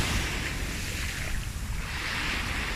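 Ocean waves washing onto a busy beach, a loud broad rush of surf swelling and ebbing with heavy wind buffeting the microphone, no voices.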